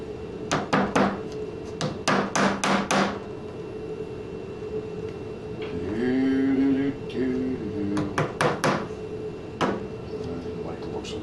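Sharp, close hammer blows drive nails into wood in quick bursts of several strikes, pausing while someone talks briefly in the middle before more strikes follow.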